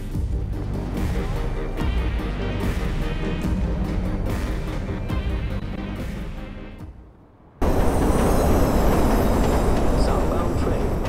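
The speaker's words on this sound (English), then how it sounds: "Southbound train arriving shortly." A Watch Dogs train rumbles past in a loud, steady roar, drops to a brief dip, then surges back louder and rougher as carriages rush by, with speech underneath.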